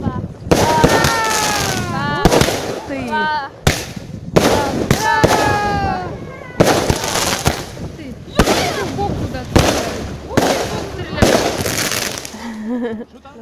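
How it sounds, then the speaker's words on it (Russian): Fireworks set off outdoors at a January birthday gathering: a rapid string of sharp bangs and crackles with rising whistles, repeated in bursts over about thirteen seconds, loud and close, with people talking and exclaiming throughout. "Сейчас будем зажигать салют."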